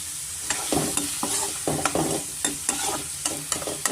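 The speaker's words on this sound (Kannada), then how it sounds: "ನೆಕ್ಸ್ಟ್ ತರಕಾರಿ ಎಲ್ಲ ನೀಟಾಗಿ ಎಣ್ಣೆಯಲ್ಲಿ ನಾವು ಚೆನ್ನಾಗಿ ಫ್ರೈ ಮಾಡ್ಕೊಬೇಕಾಗುತ್ತೆ" Vegetables and onion frying in oil while being stirred for hotel-style shavige uppittu, with a steady sizzle and regular clanking spoon strokes roughly every half second, close and fairly loud with no talking.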